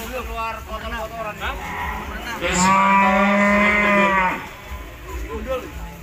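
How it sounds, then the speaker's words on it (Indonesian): Cow at a Javanese livestock contest lets out a loud, sustained moo lasting close to two seconds, with people talking before and after it and other cattle sounding faintly nearby. "Nah, ini ada sapi super ini"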